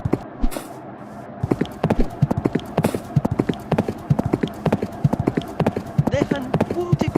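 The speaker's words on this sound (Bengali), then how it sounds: "দেখেন গরুটি কিন্তু ছুটে চলছে, মিনা কিন্তু ধরতে পারতেছে না।" Fast rhythmic hoofbeats of a running cartoon cow, a loud, close clip-clop gallop that continues for the whole stretch, with voices over it.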